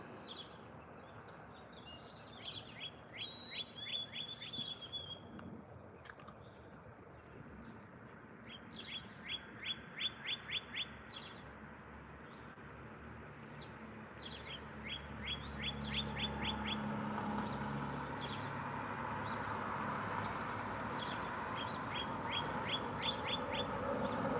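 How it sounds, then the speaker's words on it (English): Birds chirp in quick repeated bursts of high notes against soft outdoor background noise, which swells into a broader rushing hiss partway through. "I'm just listening to the birds."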